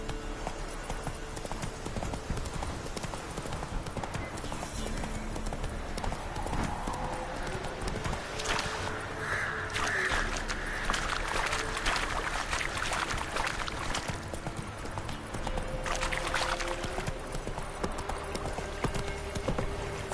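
Horse hooves clip-clop rapidly in a steady galloping rhythm from the Witcher 3 video game, loud and continuous over a layer of game ambience and music.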